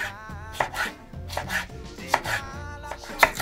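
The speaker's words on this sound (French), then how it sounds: "Et ensuite, on coupe en lamelles." Knife slicing bell peppers into strips on a cutting board, a quick series of crisp chops with short pauses between strokes, close and clear with no talking.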